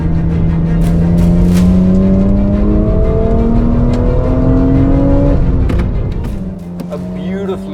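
A naturally aspirated 1992 BMW 325i engine builds revs in a smooth, steadily rising howl for about five seconds, then drops back to a lower drone. The sound is loud and close throughout.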